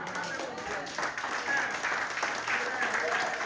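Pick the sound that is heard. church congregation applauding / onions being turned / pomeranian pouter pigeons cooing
church congregation applauding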